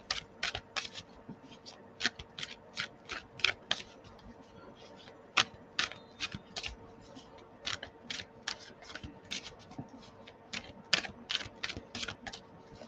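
Tarot cards are shuffled in quick repeated riffling bursts, crisp and close, with brief pauses between, and no voices.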